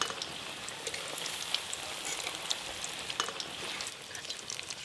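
Chicken pakoras fry in hot oil in a kadai, a steady crackling sizzle with sharp pops and spits scattered throughout, close and continuous without talk.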